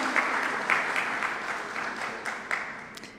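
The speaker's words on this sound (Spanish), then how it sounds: "Y recibimos al doctor Pedro Sergio Ramírez, quien también aplaudimos en este Premio a la Excelencia Magisterial 2022." Audience applause at a higher-education teaching excellence award ceremony, a steady wash of clapping from a sizeable crowd that stays moderately loud throughout with no voices over it.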